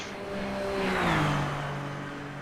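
A race car roars down the backstretch in a sim racing series, its engine note a rising and falling whine as it passes close by, swelling to a peak and then fading slightly.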